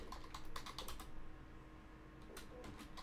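Computer keyboard typing in bursts of quick clicks, clustered near the start and again near the end with a quieter pause between, fairly close over a low steady background hum.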